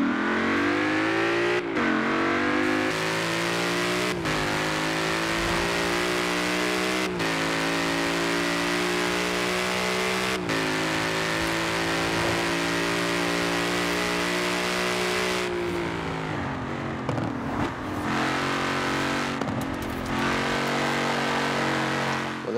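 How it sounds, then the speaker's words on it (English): A 2018 Ford Mustang engine revving in the racing game Forza Horizon 4, a loud, continuous roar that climbs and drops in pitch with several sharp gear-change breaks across about twenty seconds, with no talking. "There we go, there's the sound. It sounds like the 2018 Mustang actually."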